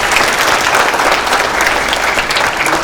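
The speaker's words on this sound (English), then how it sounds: "give a round of applause for that." A round of applause from a room full of people at a morning community coffee gathering with the mayor and city manager, dense continuous clapping throughout, fairly loud and close.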